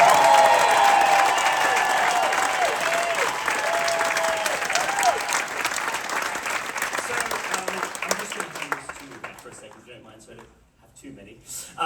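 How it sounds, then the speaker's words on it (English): A gala audience at the Les Misérables 40th anniversary creators' talk bursts into dense applause and cheering. The sustained roar is loud at first and tapers off, with voices audible over the clapping. "Let's have a big applause for this amazing team of people."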